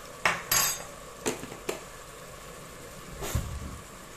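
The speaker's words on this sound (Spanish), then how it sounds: "Lo movemos bien" A spoon knocks and scrapes against a pot while stirring a thick beef stew with flour: a few sharp metallic clinks spaced irregularly, with a quiet background between them.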